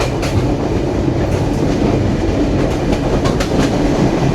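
A passenger train on the Kolkata to Dhaka route runs steadily, a loud continuous rumble from inside the carriage with rhythmic clickety-clack of wheels over the rails.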